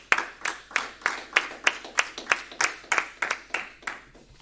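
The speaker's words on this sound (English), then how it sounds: "Let's give Mike a round of applause." Clapping at a New Hampshire press association journalism awards presentation comes as a steady, evenly spaced series of about fourteen distinct claps, fairly faint and close, as though from one or a few people rather than a full crowd.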